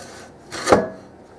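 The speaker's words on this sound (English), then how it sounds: "Now we're going to cut these up, each one into 4" A knife cuts through canned cinnamon roll dough with one short, soft scraping stroke that swells and fades, close and alone against a quiet kitchen.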